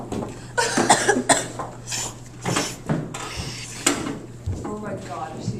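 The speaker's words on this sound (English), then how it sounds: "sniffling so loud you can't hear your professor" A student in a classroom makes repeated loud, wet sniffles and snorts, a string of short bursts spaced across the stretch, close and prominent over a quiet room.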